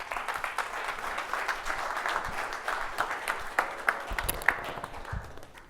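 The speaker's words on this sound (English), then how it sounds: "Try and give us a round of applause for Peter." An audience at a Ministry of Labour occupational health and safety talk gives a round of applause, dense steady clapping lasting several seconds, with a few louder individual claps and some faint voices underneath.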